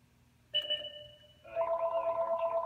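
A telephone rings, first a steady electronic tone and then a fast, warbling repeated ring that continues to the end, moderately loud over low background noise.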